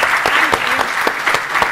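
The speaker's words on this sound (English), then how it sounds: "a massive round of applause for the panel" Audience at Farnborough College of Technology gives a panel a loud round of applause, close, continuous clapping with distinct sharp claps standing out.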